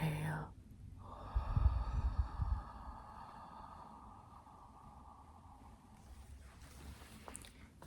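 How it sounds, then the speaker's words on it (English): Slow, soft breathing close to the microphone in a calm, quiet ASMR-style setting: a brief inhale followed by a long, gentle exhale over a faint hiss. "Once more. Inhale. And exhale."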